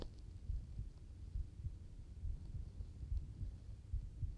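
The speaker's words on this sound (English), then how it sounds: "This thing is so sensitive, you can even hear your own heartbeat with it." A heartbeat picked up through a sensitive parabolic microphone gives a steady, regular low thumping pulse, about two beats per second, soft and muffled with nothing else over it.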